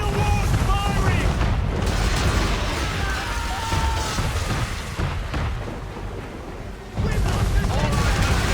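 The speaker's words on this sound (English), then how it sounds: "Man of war's firing!" A man-of-war warship fires a volley of cannons during a naval battle in Assassin's Creed 3. Heavy booms and rumbling blasts run continuously under a thick wash of game noise, with a surge near the end.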